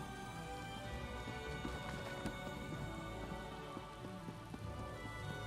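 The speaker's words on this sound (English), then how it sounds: "Well, I can really hear the rain outside in here." Steady rain falls outside a banquet hall in the video game Elder Scrolls Online, a constant dense patter with low rumbling like distant thunder and wind, filling the whole stretch without talk.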